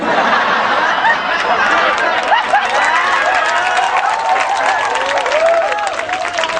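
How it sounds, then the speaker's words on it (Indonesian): A large religious gathering breaks into sustained clapping, a broad wash of hands with crowd chatter and light laughter mixed in, tapering slightly near the end. "Aku tahu dia ikut tepuk tangan kok"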